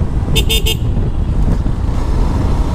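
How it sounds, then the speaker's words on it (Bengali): Stock horn of a GPX Demon motorcycle gives three quick, close, bright beeps in a tight burst, followed by a steady low engine and road rumble. "আর এই বাইকের স্টক হর্নের বিষয়ে যদি কথা বলি"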